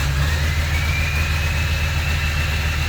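A Ford engine idles with its idle-up feature engaged, giving a steady, close, low rumble with a faint whine rising slightly through it. There is no talk.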